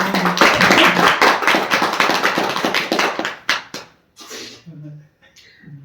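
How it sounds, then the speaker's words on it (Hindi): An audience at a sales recognition event claps in a brisk, fairly close burst lasting about three seconds, then the applause thins to a few scattered claps as a voice starts talking. "इनके लिए तालियां।"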